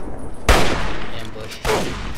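Minigun fire in the video game Fallout 3, two loud, close bursts of rapid gunfire, the first sustained and the second shorter, each trailing off into a reverberant wash.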